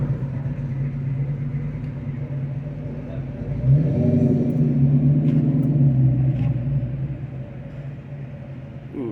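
Rumble of a big-block V8 in a Camaro idling at an outdoor car show, a steady low throb that swells louder for a few seconds midway, then settles back to a continuous near drone.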